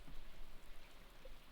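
Steady rain falling outdoors around someone standing alone in it, a soft continuous hiss of drops at close range with no talking.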